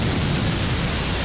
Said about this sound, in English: Then we can run this through just a bunch of distortion, just to make it as brutal as possible.